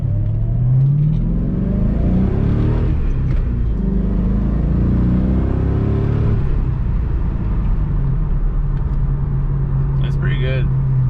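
Interior view of a 2003 Ford Mustang GT with a Magnaflow exhaust, driving with windows up: a steady, loud low engine drone with rising and falling harmonics as it accelerates and shifts, and a brief faint chirp near the end.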